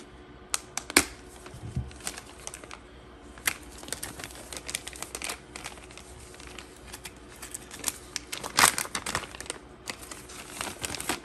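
Plastic packaging bags crinkle and rustle as Treal steering link parts are unpacked, close-up intermittent crackles with a few sharper snaps, loud and alone without talk.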